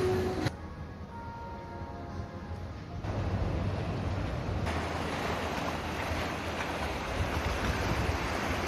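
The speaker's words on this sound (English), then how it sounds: "This is the Indian Sea and these are the wall water villas of Oblu" Ocean waves wash continuously below overwater villas on the Indian Ocean, a broad steady roar of surf mixed with wind buffeting the microphone and no talk.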